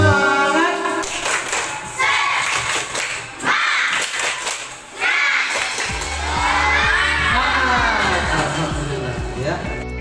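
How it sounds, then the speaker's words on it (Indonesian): A classroom of pupils doing rhythmic spirit clapping and cheering, loud and close, with children's shouting voices mixed into the claps and a short pause partway through. "Tepuk semangat."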